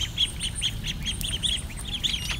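Young ducklings about two and a half weeks old give quick, high, peeping quacks in a steady, busy stream, close up over low background noise.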